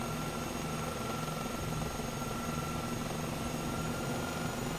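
A steady, continuous aircraft engine drone as a plane makes its final approach to land on an aircraft carrier in Microsoft Flight Simulator. The hum holds at an even level throughout, and no one speaks.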